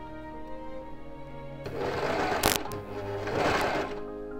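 An overlock serger stitching a sweatshirt collar starts up partway through, humming steadily and close after a quieter stretch, with a brief sharp click in the middle.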